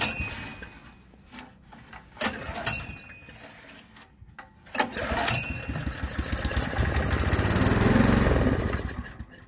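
An old Honda 2.2 kW generator that sat for seven years is cranked with starting fluid in the carburetor: several sharp pull-start bursts, then the engine catches and runs roughly, loud and close.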